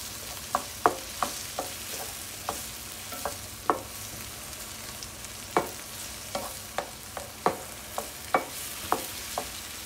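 Tilapia and peppers frying in a pan while being stirred: a steady sizzle runs throughout, broken by a dozen or more sharp utensil scrapes and clicks at an uneven rhythm, close by with no talking.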